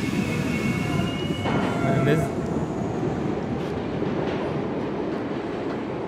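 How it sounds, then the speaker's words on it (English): A train at a station in the video game A Memoir Blue gives a steady, loud rolling rumble with faint metallic whines throughout, and a voice speaks briefly over it. "now she's in the train station now"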